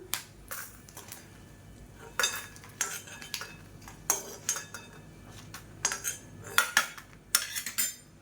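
Dry red chillies are roasted and stirred in a kadai, a metal spoon scraping and clinking against the pan in irregular strokes, with soft rustling between, close and fairly quiet.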